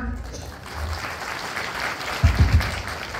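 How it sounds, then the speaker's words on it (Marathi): Loud applause from an audience at a Diwali lucky-draw coupon event, a steady crowd of clapping that swells near the end with heavier low thumps. "जोरदार टाळ्या."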